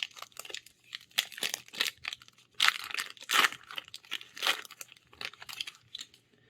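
Crinkly foil wrapping of a Throne of Eldraine trading card booster pack is crumpled and torn open up close, in repeated bursts of sharp crackling with short pauses between them, and no voice.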